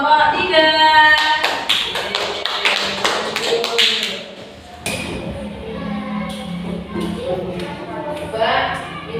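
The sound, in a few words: classroom applause for group 3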